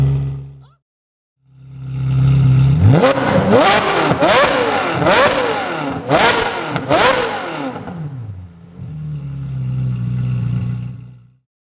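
A straight-piped Ferrari F430 engine idling, then revved hard several times in succession, loud and close with raspy sharp peaks, settling back to a rumbling idle.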